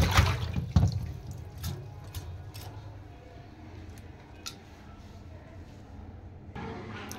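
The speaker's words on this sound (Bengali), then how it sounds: "সব মাছগুলো ধুয়ে নিয়েছি" Fish being rubbed with salt and rinsed under running tap water in a kitchen sink, with a steady faint flow of water, a few louder splashes and clinks near the start, then a quieter trickle.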